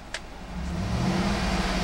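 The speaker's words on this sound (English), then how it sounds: "I'm going to rev the engine here." A 2011 GMC Yukon XL AWD engine idles with a steady low rumble, then rises as it is revved, the hum swelling and holding louder.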